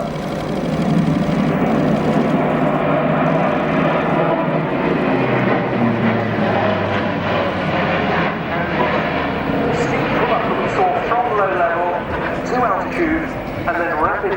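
Engines of an Airbus A400M tactical transport droning steadily at a flying display, loud and continuous throughout, with a commentator talking over the aircraft noise.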